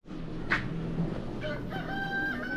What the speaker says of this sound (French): Les poules chantent et annoncent le départ de la marche.